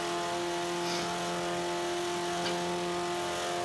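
Steady whining drone of a KTM X-Bow RWD race car engine in Forza 5, a sustained tonal hum held at a constant pitch with a slight rise near the start, moderately faint.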